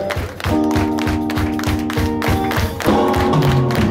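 A live concert crowd at Multiforo Alicia claps along in a steady beat over loud band music, rhythmic and continuous for the whole stretch.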